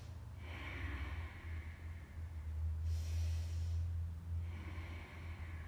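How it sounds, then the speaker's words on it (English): Slow, deep breaths taken during a family yoga session, each long inhale and exhale audible up close over a low steady hum, with no speech. "take 3 big breaths here"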